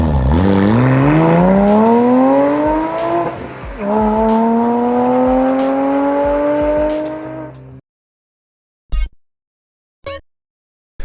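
A Porsche six-cylinder engine revs loud and close, climbing in pitch through the gears and pausing briefly between shifts before cutting off. A few short engine blips follow after a silence.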